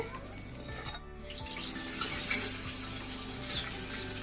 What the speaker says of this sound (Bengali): শিমটা ভাজা হয়ে গেছে